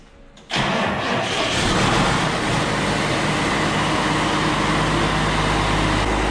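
A tractor hitched to a corn planter starts up with an abrupt burst after a quiet moment, then settles into a loud, steady engine drone that continues alone.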